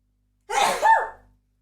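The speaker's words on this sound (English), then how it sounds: "I'm gonna sneeze." A single sneeze, close and fairly loud, about a second long with a sharp inhaled onset followed by the explosive burst, in an otherwise quiet indoor space.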